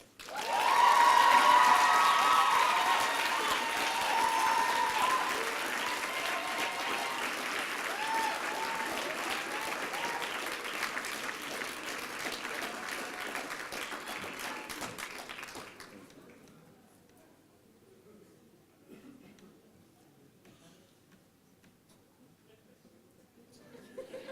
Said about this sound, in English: please join me in giving a round of applause for Dean Julian Antoine Moots